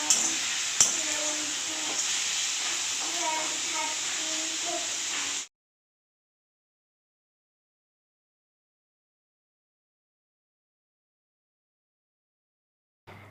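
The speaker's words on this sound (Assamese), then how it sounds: "ইয়াতে আদা আৰু নহৰুটো দি দিলোঁ লৰাই ভাজি দিওঁ" Ginger and garlic fry with a soft, steady sizzle in a pan, accompanied by faint clinks of stirring for a few seconds before the sound cuts into a long silence.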